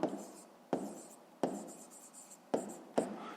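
Pen strokes on paper while working a grade-5 math exercise, five distinct scratchy writing bursts each starting sharply and trailing off, close and fairly quiet, with no voice.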